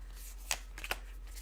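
A quick riffle of tarot cards being shuffled, a short crisp burst followed by a couple of soft flicks, close and fairly quiet.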